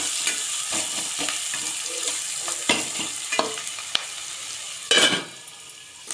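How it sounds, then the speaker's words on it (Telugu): Onions fry in a pan for a fish curry, hissing and sizzling continuously with scraping stirs and occasional louder clatters of the spoon, no voices. "ఉప్పు దీంట్లోనే వేస్తే కొంచెం ఎర్రగడ్డ బాగా ఫ్రై అవుతుంది"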